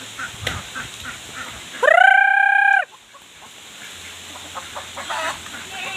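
A rooster on a hillside farm gives one loud, close crow lasting about a second, with softer clucks from chickens and ducks before and after.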